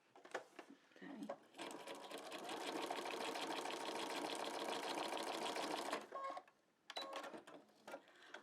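A sewing machine runs a steady zigzag stitch on a piece of stabilizer for a few seconds, fairly close. Brief handling sounds come before it and after it stops.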